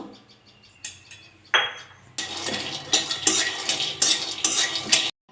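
Peanuts, cashews and almonds frying and being stirred in a kadai, with repeated scraping and clattering strokes over a steady sizzle, loud and close, with no talk.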